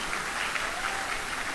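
An audience at an All India Mushaira poetry recital at the Pune Festival claps in a dense, even burst of applause, loud and sustained without voices.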